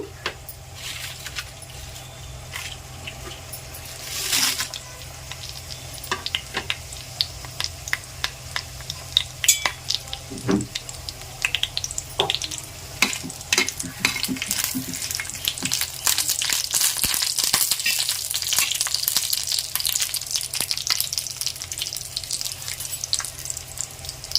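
Green chillies sizzling and crackling in hot oil for a mango pickle, a steady frying hiss with sharp pops and spatters building louder toward the end, no voices.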